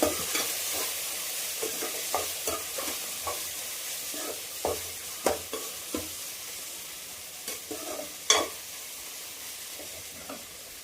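Spices stirred into a sizzling bitter gourd and tomato curry in a pan, a steady frying hiss with repeated sharp scrapes and taps of the spoon, close and continuous, with no voices.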